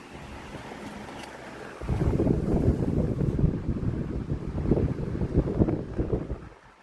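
Airflow from a 2005 Air King 16-inch commercial desk fan, model 9106A, set to low, buffets the microphone with a steady rushing wind noise that kicks in abruptly and continues close and loud before easing.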